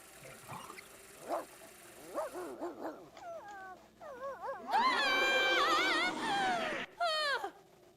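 A wolf in The Sims 2 gives a string of short whimpers and yips that build into a long, loud, wavering howl, then a final brief cry.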